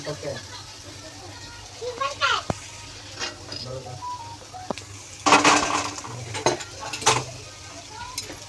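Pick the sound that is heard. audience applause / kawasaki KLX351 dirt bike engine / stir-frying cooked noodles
stir-frying cooked noodles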